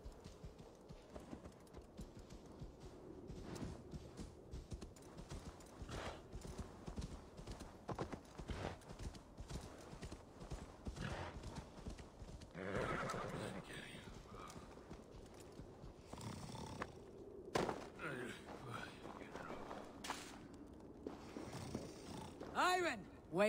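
A horse in Assassin's Creed Valhalla clip-clops along in a steady hoofbeat rhythm, with occasional snorts, under a quiet bed of game ambience and intermittent talk.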